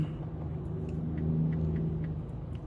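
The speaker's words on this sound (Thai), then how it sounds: "มันเป็นรถบัส" A tour bus engine, parked for a music video shoot, rumbles steadily up close, a low continuous idle hum with a faint mechanical whir and no voices over it.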